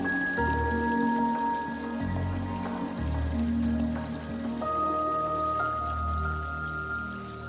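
Raindrops fall and drip onto surfaces, soft scattered plinks and pings over a gentle wash, steady and fairly quiet with no voices.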